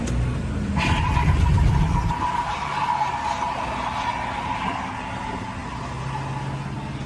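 A Ford F-250 pickup dropped out of neutral roars with a loud, rough engine burst and tire squeal for about two seconds, then settles into a steady, rising drone with a sustained whine as the truck keeps moving.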